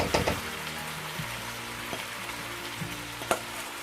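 Chopped tomatoes, about five medium ones, hit a pan of frying masala, a sharp clatter and sizzle at the start followed by steady close frying hiss with occasional stirring knocks.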